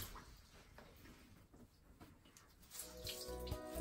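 Tap water runs steadily into a bathroom sink while a wet Norwex Enviro cloth is rinsed, a soft continuous splashing that gets a little louder and busier toward the end, with no talking.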